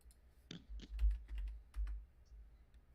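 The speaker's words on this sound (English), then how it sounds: "She is typing." Keyboard typing at a computer during a tabletop game session: a brief run of soft, close keystroke clicks in irregular bursts, with no talking over it.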